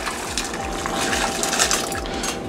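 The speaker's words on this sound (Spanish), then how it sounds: "Vamos a agregarle nuestro grano de elote que ya tenemos aquí desgranado." Shelled corn kernels pour into a large pot holding four to five liters of water for chileatole, giving a continuous rushing, splashing pour with scattered patters, steady and close.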